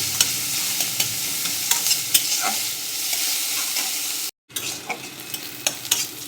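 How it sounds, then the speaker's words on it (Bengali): Onions and chillies fry in a small amount of oil, giving a steady broadband sizzle with repeated stirring scrapes and clicks. It stays close and even, with one brief dropout near the end and no voices. "পেঁয়াজ লঙ্কা সব লাল করব একসঙ্গে ভালো করে।"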